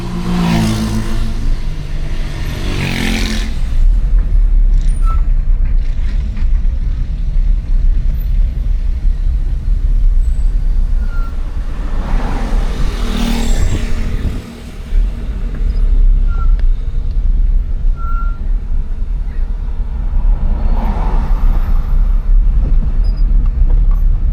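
Heavy road traffic in a jam in Accra, Ghana, a loud constant rumble of engines with a few passing surges of louder vehicles, no talking.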